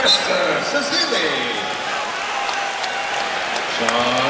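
Arena crowd at a Golden State Warriors versus San Antonio Spurs basketball game applauding Steph Curry as he leaves the court, a steady broad roar of clapping and cheering under a commentator's voice.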